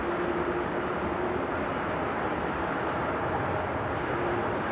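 A KLM Boeing 737-800 airliner at Amsterdam Schiphol, on a flight toward Paris Charles de Gaulle after a storm, gives a steady broadband engine roar that holds at even loudness throughout with a faint tonal hum underneath.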